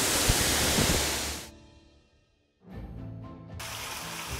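A three-tiered waterfall at Tumburanno on Wawonii Island roars as loud, dense rushing water, briefly dropping to near silence before the steady torrent returns.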